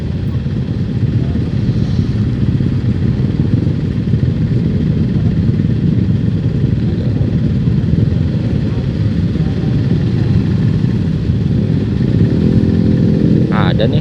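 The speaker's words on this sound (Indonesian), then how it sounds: "Ada nih kayaknya sih sekitar 1000 motor." Dense traffic of many motorcycles queued at a red light during the holiday homecoming rush near Cirebon, engines idling in a steady loud rumble that fills the whole stretch, with a brief clatter near the end.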